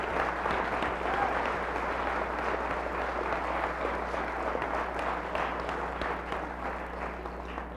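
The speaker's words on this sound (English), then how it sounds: "would you join me in a round of applause for them once again?" Sustained audience applause at a 1996 Martin Luther King program honoring youth and children, a dense, steady clatter of many hands filling the room and tapering slightly toward the end, with a low hum beneath.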